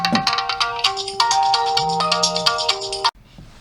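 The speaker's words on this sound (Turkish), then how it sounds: "Şimdi arada telefon çalıyor." A phone ringtone plays a bright electronic melody of repeated tones for about three seconds, close and clear, then cuts off abruptly into near silence.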